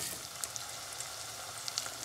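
Onions frying in a pan for mutton biryani, a soft, even sizzle with a few tiny crackles and pops, fairly quiet and steady throughout.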